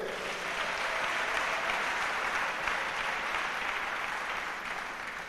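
Church congregation applauding steadily during a sermon, a dense, continuous wash of clapping that holds at an even level for several seconds before easing slightly at the end.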